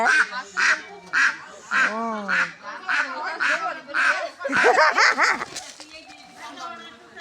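A slaughtered duck runs around and lets out a series of short quacks, which are mixed with excited talk and shouting from the people nearby.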